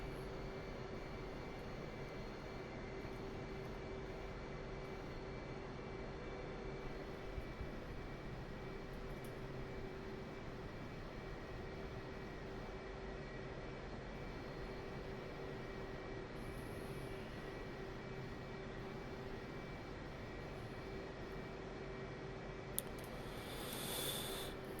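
Jet engines of a DCS World flight-sim aircraft run up before takeoff, a steady broadband roar with a sustained tonal whine that holds evenly throughout, ending with a brief sharp click.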